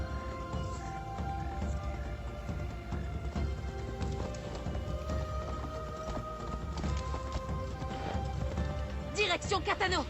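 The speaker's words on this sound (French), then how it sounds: "Le cheval va venir à nous." A horse in Assassin's Creed Shadows trots closer, its hooves clip-clopping in a steady rhythm under game music and ambience, with a brief whinny or rustle near the end.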